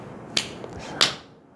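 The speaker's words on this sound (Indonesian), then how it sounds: "Bagian dalam telapak tangan menepuk bagian punggung telapak tangan" Two sharp, close slaps made by striking the inner palm against the back of the other hand, spaced about two-thirds of a second apart, in an otherwise quiet room.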